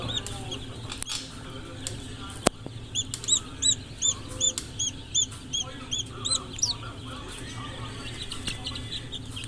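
Chickens on a farm during Newcastle disease and infectious bronchitis vaccination give repeated short clucks and chirps in a steady series, over a low background hum, with brief knocks and faint voices.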